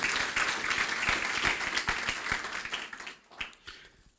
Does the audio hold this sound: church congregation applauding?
yes